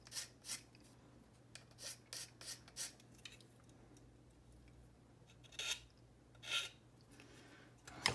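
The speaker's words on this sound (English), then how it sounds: "It feels almost kind of brittle when I'm sanding it." Thin, brittle plastic of a Hive Tyrant model kit being sanded, heard as scattered short raspy rubbing strokes, close and faint, with irregular pauses over a low hum.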